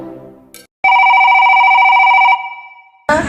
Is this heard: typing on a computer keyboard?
no